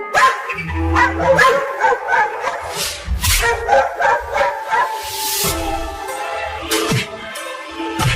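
Repeated dog barking in a cartoon over busy background music, barks coming in irregular bursts throughout, fairly loud and close.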